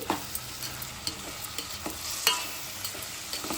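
Cabbage curry being stirred in a pan makes a soft sizzle broken by repeated scraping taps of a spoon, close and fairly quiet, with no voices.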